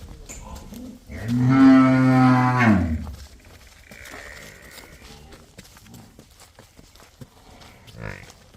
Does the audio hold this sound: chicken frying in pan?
no